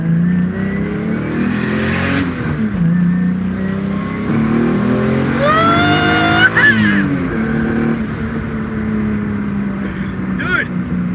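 A car with a freshly built 2JZ engine accelerates hard from inside the cabin, revs climbing in rising sweeps between gear changes, loud and close, with voices heard over it.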